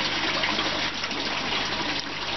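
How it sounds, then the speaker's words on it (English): Running water rinses paddock dirt from the roots of freshly pulled broccoli plants, a steady close rush of splashing water with no talking. "We get the broccoli from the paddock and wash the dirt off the roots"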